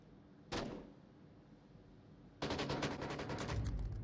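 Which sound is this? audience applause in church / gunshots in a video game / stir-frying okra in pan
gunshots in a video game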